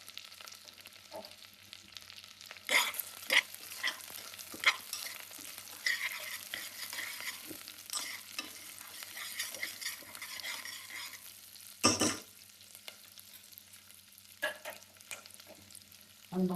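Onions, curry leaves and garlic crackle and sizzle in hot ghee in a pan, a steady close frying hiss broken by stirring scrapes and a sharp burst of spattering near the end.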